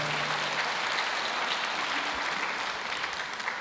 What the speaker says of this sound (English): if you are clapping for the Lord, go ahead and give the Lord a clap often